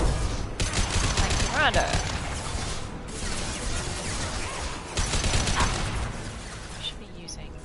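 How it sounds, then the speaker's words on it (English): Heavy sustained gunfire in the video game Mass Effect, dense rapid bursts and impacts filling the scene with little letup, while a character speaks briefly over the shooting. "Taking heavy fire!"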